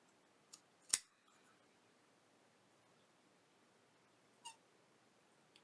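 Scissors snip a piece of paper for a handmade journal cover, a single sharp cut followed later by a fainter second snip in an otherwise quiet room.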